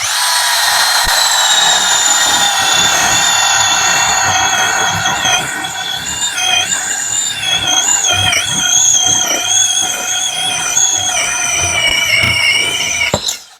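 A KEELAT KCD011 power drill with a spade bit whines steadily at high pitch on speed 2 as it bores through material, running continuously and loud before cutting off abruptly at the end.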